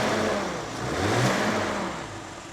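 A classic Mercedes Pagoda engine runs smoothly and steadily close by, its hum swelling briefly as it revs slightly, then settling back to an even idle.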